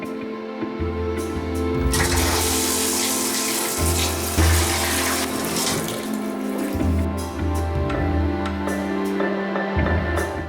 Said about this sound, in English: I'm taking a bubble bath